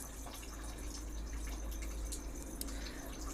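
Water runs faintly and steadily while something is washed with a cloth, a soft trickle with a few small drips and splashes.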